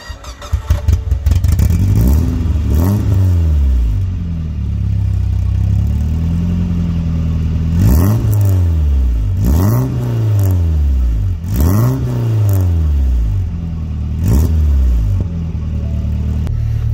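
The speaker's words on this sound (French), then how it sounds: "on va écouter le démarrage, voir ce que ça donne" A Peugeot 205 GTI engine cranks and catches, then revs up and falls back several times in repeated loud swells, recorded close to the car with no talking.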